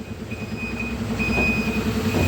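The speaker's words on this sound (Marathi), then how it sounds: "हे बघा रिवर्स घेतोय ट्रेलर." Tractor engine idling steadily at close range while a large trailer is backed up, a continuous low rumble with a faint high whine running over it.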